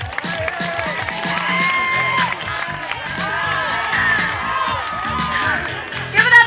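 A crowd at a high school sober graduation hypnotist show cheers, whoops and claps continuously, with voices shouting over the steady applause and a louder burst at the end.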